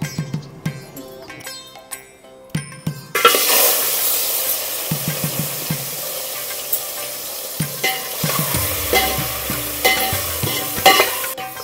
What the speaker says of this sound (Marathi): आता आपण फोडणी देऊया.